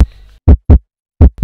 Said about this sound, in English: they are wrong about heartbeats being regular. It beats very fast, hell fast.